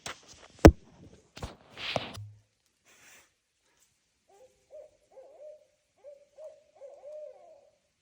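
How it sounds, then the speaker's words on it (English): An owl hooting outdoors at night in the woods, a series of soft, distant hoots repeating after some nearby rustling, footsteps and breaths. "I know, it's an owl."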